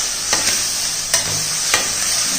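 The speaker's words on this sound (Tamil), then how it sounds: "மிளகு தூள் இது எல்லாத்தையும் மிக்ஸ் பண்ணிக்கிறோம்ப்பா." A spoon scrapes and stirs a brown rice mixture with pepper powder through a sizzling pan, with a few sharp clinks against the metal over a steady low frying hiss.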